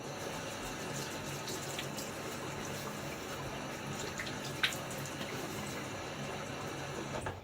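Water runs steadily from a tap to wet the face for shaving, a soft continuous splashing hiss with a faint clink partway through.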